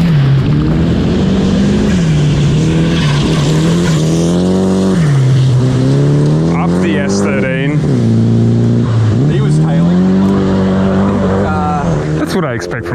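Rally cars, including a Nissan S13, race hard on a gravel stage at Gippsland Rally, with a loud, sustained engine drone that rises and falls through gear changes, close by and continuous, while people talk over it.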